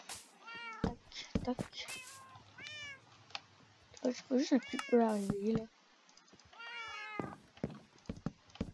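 Cats meow repeatedly in Minecraft survival mode, several drawn-out, close cries in bursts with clicks and a voice talking between them.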